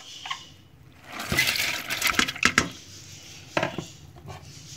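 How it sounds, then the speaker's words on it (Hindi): Dry lentils for daal mash clatter and rattle into a metal pressure cooker in a home kitchen, in a few short bursts of scraping and pouring, fairly quiet with pauses between. "तो इसको प्रेशर कुकर में डालते हैं।"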